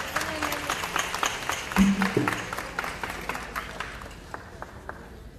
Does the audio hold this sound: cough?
no